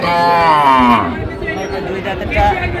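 At a cattle market for dairy cows, a cow gives one loud, drawn-out moo close by, followed by general market noise and nearby voices.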